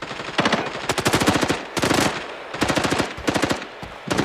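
Video game battle gunfire in a large city faction war, loud sustained automatic bursts in rapid rhythmic volleys with brief gaps between them, close and dominant with no talking.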